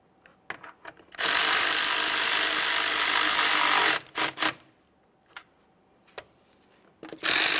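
A ratchet tightens the radiator mounting bolts on a Ford F-150 with a 3.5L V6 in a loud, steady whir lasting a few seconds, followed by short, sharp clicking bursts.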